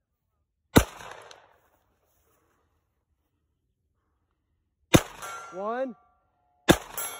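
Three sharp gunshots fired at steel knockdown targets on an outdoor range during a tactical shooting match, each crack followed by a metallic ring, with long silent gaps between them; a voice briefly counts aloud.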